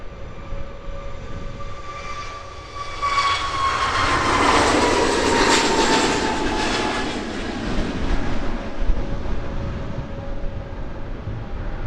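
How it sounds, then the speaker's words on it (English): Corporate jet taxiing towards the runway at an airport, a steady engine whine with a falling tone that swells to a loud rushing roar in the middle, then eases back. "Jet, corporate jet, moving towards the runway in the background."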